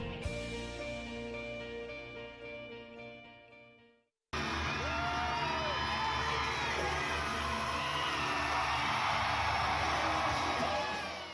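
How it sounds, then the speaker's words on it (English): Fans screaming and cheering at a concert inside the Save Mart Center, a loud, dense roar that bursts in after a few seconds of music and holds steady at full volume with piercing shrieks. "The sound of fans screaming was deafening inside the Save Mart Center"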